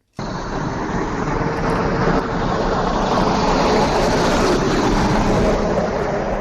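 A truck passes on a loud road, a loud, continuous broadband roar that starts abruptly and holds steady for several seconds, close by, with no talk over it.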